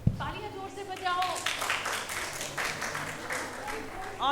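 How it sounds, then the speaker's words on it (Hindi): Clapping from a classroom group during an experiential learning session, building after a voice at the start into loud, dense rhythmic claps, then tapering off with talk underneath. "तालियां जोर से बजाओ"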